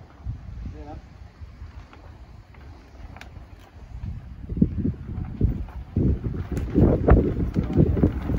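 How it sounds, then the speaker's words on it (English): Wind gusting over an allotment while plastic sheeting is pulled over a polytunnel frame, buffeting the microphone with low rumbling gusts that build and grow louder toward the end, with voices present. "The wind comes up just as they're covering the frame."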